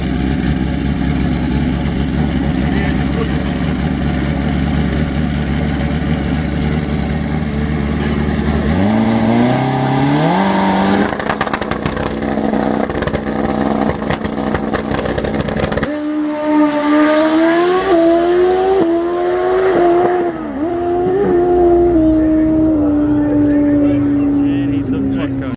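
A turbocharged Suzuki GSXR 1000 motorcycle making a track pass: a loud, continuous engine roar that climbs sharply through several gear changes with rising and falling pitch, heard close, with a voice over it near the end.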